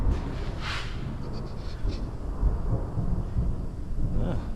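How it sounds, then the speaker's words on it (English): Thunder rumbles low and heavy during a storm, a deep rolling crack lingering faint to moderate over steady background noise. "There's another big crack of thunder."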